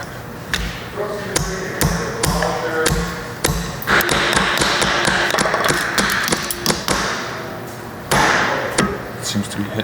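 Sharp metallic hammer blows ring out repeatedly in an irregular rhythm, close and loud, driving a Ford 8.8 axle into its housing on a Toyota Corolla, with people talking between the strikes.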